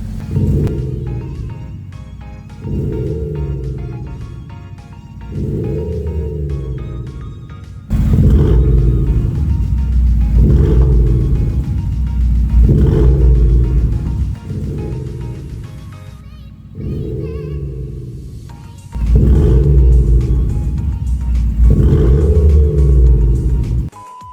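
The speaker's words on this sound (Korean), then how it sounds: "이번에는 반대로 사운드 배기만 한번 들려드릴게요" A car engine revs repeatedly through a loud sound-generator sports exhaust with the variable valve exhaust switched off, deep roaring bursts rising and falling about every two seconds, close and powerful.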